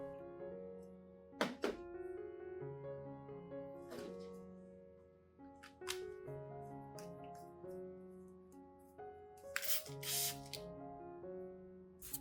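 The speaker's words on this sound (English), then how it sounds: "I will pour the mixture into a dedicated spray bottle and use it to mist and care for other plants in the garden" A handheld spray bottle mists a nutrient mixture onto garden plants, three or four short hissing squirts separated by soft clunks, faint against a low background with a tonal hum throughout.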